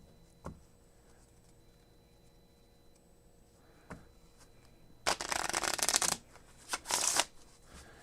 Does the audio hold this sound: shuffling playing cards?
yes